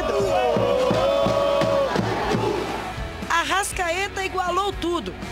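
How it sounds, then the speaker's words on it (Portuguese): Visiting football supporters at the Cruzeiro–América derby chanting and singing in a loud massed crowd, with rhythmic drum-like thumps and rising, sustained voices, the chant shifting into shorter shouted phrases near the end. "Fica ainda mais difícil ver a torcida do time visitante fazendo a festa, fazendo aquele barulho prometido."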